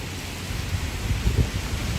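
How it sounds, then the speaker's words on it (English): Light rain falling on a New York City street at East 67th Street and First Avenue on a calm, windless day, a steady soft hiss with low rumbling traffic-like noise underneath, no voices. "It's raining, but it's not windy."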